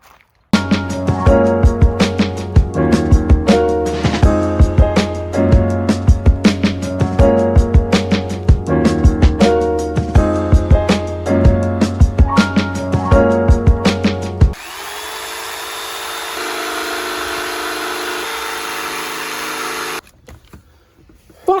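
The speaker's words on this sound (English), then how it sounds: "About to cut the piece of plywood." A power tool cutting through a piece of plywood for a custom amp and subwoofer box mount in a Ford Ranger 4x4, running loud and steady with rhythmic pulsing bursts, then cutting out to a quieter hiss before stopping.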